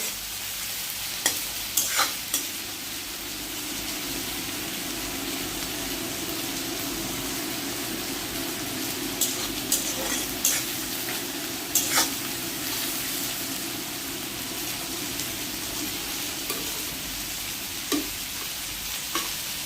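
Rupchanda (pomfret) sea fish fries in a pan with a steady, even sizzle, broken by occasional light clinks as the pieces are turned, with no one talking.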